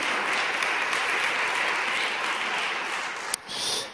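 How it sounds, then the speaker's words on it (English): An audience at a live talk-show breakfast event gives steady, full applause throughout, with a brief louder clap burst near the end. "Your applause."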